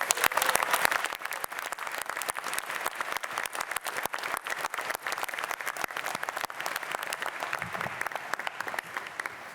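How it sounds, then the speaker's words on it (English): Audience applause at a fall convocation ceremony for hospitality, tourism and advanced technology graduates. Many hands clap in a steady, fairly distant patter that runs evenly throughout. "So please, a round of applause."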